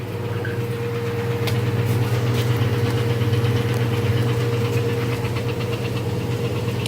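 Washing machine standing on its platform during the spin cycle, a steady loud low-pitched hum with rattling resonance, continuous and close throughout.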